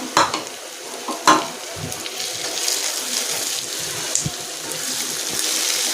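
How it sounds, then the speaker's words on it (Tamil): Finely chopped tomatoes tipped into half-sautéed onions in a pan for an anchovy curry, a couple of sharp knocks and scrapes followed by a steady, close sizzle with stirring and no talk. "இப்போ வந்து வெங்காயம் வந்து பாதி வதங்கிருக்கு. இப்போ நான் வந்து தக்காளி சேர்த்துக்கிறேன்."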